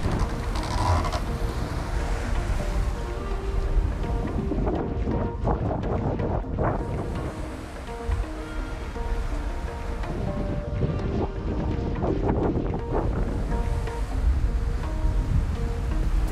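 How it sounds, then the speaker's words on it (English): Strong wind of about 20 knots roars across a sailboat on a broad reach, with steady gusty rushing, rigging creaks and water noise close to the microphone, no talking. "We've got like 20 knots of wind, sailing on a broad reach."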